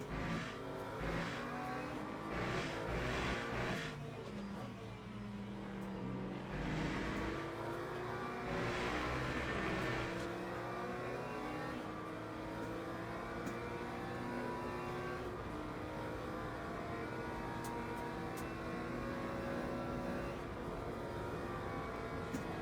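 Race car engine from the Le Mans Ultimate racing game, a steady droning roar with shifting pitch as the car revs and changes gear, continuous and fairly even throughout.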